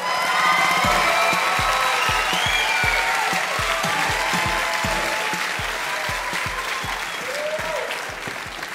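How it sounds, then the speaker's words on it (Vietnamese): An audience at a 1998 Asia music show gives sustained applause, dense and moderately loud, with a few individual claps standing out. The applause fades slightly toward the end. "Xin quý vị một tràng pháo tay"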